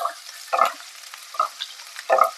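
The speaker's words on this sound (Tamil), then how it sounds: "பட்டை, கிராம்பு, ஏலக்காய், விரிஞ்சி இலையை சேர்த்து எண்ணெயில வதக்கலாம்." Whole spices (cinnamon, cloves, cardamom, bay leaf) and sliced onions are stirred in hot oil for Madurai-style chicken salna, three bursts of spoon-scraping and sizzle standing out over a steady frying hiss with no talk.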